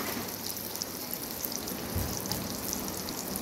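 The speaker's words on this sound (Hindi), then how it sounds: "प्याज मैंने कढ़ाई के अंदर शामिल कर दिए और प्याज में दोस्तों अच्छी तरह से" Onions fry in hot ghee in a kadai, giving a steady, even hiss of bubbling fat with faint crackles and no pauses.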